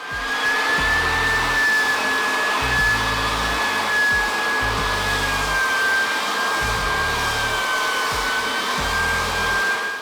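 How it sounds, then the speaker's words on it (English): Large floor sanding machine working old hardwood floors in a house over 100 years old, giving a loud, steady motor roar with a high whine and a low rumble that swells and eases, no voices. "This large machine works great for whole rooms, while these smaller orbital sanders work better for trickier spots."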